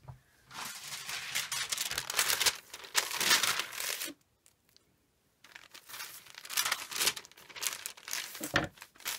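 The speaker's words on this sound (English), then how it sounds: "I'll just grab some baking parchment." Baking parchment handled and crinkled up close, bursts of crisp crumpling and rustling, with a brief quiet gap midway before more crinkling resumes.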